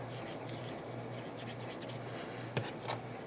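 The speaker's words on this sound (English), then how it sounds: "Now I need to get the glue off my fingers" Fingers rub briskly against each other to clear glue during book repair, a soft dry scrubbing texture heard close up, ending with a couple of small taps.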